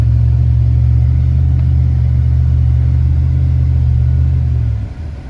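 Chevy Avalanche with a new exhaust driving through a snowy blizzard, a loud steady low engine rumble held close for several seconds before dropping off sharply at the end.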